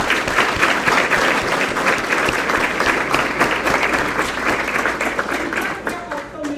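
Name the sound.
round of applause at board meeting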